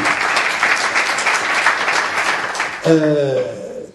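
Audience applause at a talk event, a few seconds of steady clapping before a voice begins speaking over the fading claps.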